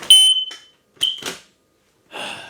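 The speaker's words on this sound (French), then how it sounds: "Mon détecteur de fumée là, il fait trop de bruit" Shrill electronic beeps of a smoke alarm, two sharp chirps with gaps between, followed by a burst of hissy noise.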